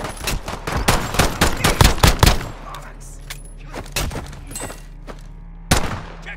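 Rapid bursts of automatic gunfire in Call of Duty Modern Warfare Warzone battle royale quads, a dense volley of sharp shots followed by scattered single cracks and one late loud shot, with brief voice chatter.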